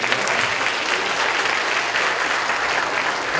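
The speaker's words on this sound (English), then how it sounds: "let's give God a hand clap of praise" A church congregation gives a sustained round of hand clapping in praise during a sermon, a loud, full and continuous roar of many hands filling the sanctuary.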